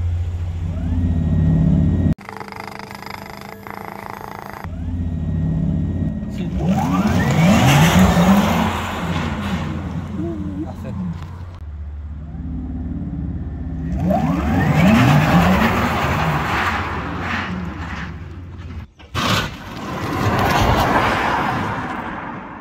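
A BMW i4 M50 and Tesla electric cars launch hard from standstill in cold, damp, slippery conditions, their motors rising in a loud whirring whine with faint tire noise, in two separate bursts of acceleration.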